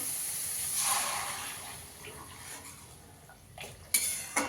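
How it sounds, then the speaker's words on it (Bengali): Hot water poured into fried, oil-separated spice paste in a pan, a soft hissing wash with light clinks of cookware, quiet and close, rising to a couple of sharper splashes near the end. "এবার এখানে আমি গরম জল করে রেখেছি, দিয়ে দেবো।"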